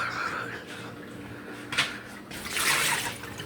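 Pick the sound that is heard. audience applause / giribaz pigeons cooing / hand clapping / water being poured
water being poured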